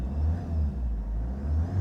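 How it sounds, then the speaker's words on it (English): A 2013 Ford Mondeo Wagon turbo diesel engine runs with a deep, steady rumble that swells gently as it is revved. It is close and alone, with no talk. "let's start it up quickly. I'll give it a bit of a rev."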